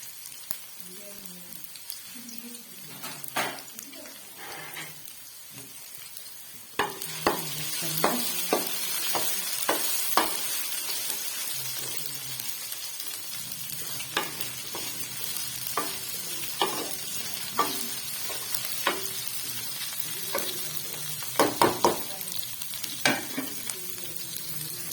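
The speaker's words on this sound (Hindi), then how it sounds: "प्यारी सी कढ़ाई में हम डालेंगे भिंडी बादशाह, ठीक है।" Okra sizzles in oil in a kadai while a spoon stirs it, giving steady frying hiss with repeated scraping clacks and bumps, louder once the vegetables hit the pan, with a voice speaking at times.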